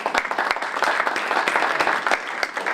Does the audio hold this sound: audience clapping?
yes